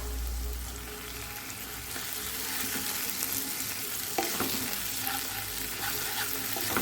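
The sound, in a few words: garlic and ginger paste sautéing for prawn curry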